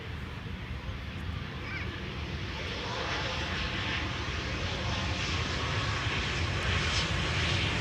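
A jet airliner arriving at Schiphol Airport on the Polderbaan runway, a steady broad engine roar that builds slightly and holds, heard from outdoors at moderate distance with no clear talk.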